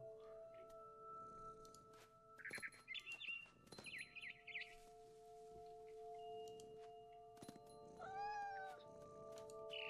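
A cat in the game What Remains of Edith Finch meows in several short, rising calls, then once more after a pause, over a steady humming game ambience with faint rustling.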